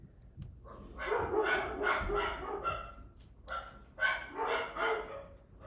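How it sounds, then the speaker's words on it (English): Several dogs bark in repeated bursts indoors at a home, fairly close and loud, with short pauses between volleys and no talking over them. "Sorry about the dogs barking."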